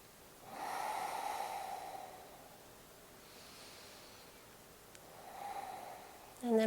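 Slow, audible breaths during a prenatal yoga side stretch on a mat, a long inhale and exhale followed by a second softer breath, close and alone with no talk.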